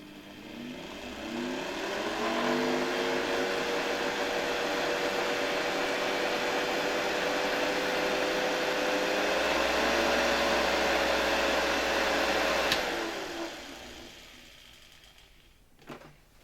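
A motor from a 1972 Hoover 1346A vacuum cleaner, unmounted and run at reduced voltage, spins up to a steady whining hum with a slowly rising pitch, holds for about ten seconds, then winds down to silence.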